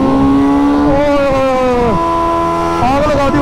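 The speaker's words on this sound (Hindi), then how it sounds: "इन्होंने फर्स्ट टाइम बर्नआउट मारा" Motorcycle burnout from a Zx10r or Hayabusa: a loud, close engine holding high revs with pitch dips and climbs, layered with tire noise, while people talk over it.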